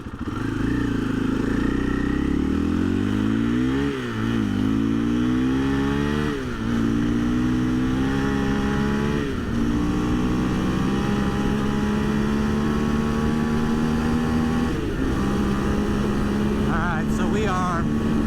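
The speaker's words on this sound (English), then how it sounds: "running up to full throttle in each gear. So let's try that this time." A 2024 KTM 500 EXC-F on stock ECU mapping revs hard at full throttle, its engine note climbing repeatedly and dropping at each gear change, loud and close with wind rush throughout.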